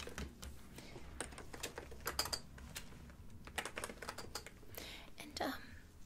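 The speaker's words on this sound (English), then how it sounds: "let me just type that in really quickly" Fast, close typing on a computer keyboard in a quiet room during a sunglasses-fitting role-play, a steady run of crisp key clicks with brief pauses, faint breathy whispering underneath.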